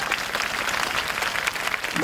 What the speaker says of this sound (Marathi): अस्मिताताईंसाठी टाळ्या वाजवा, माझ्यासाठी नाही.